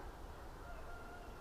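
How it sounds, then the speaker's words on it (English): A rooster crows faintly in the distance over a steady hiss of outdoor background noise. "Obviously the cockerel in the background"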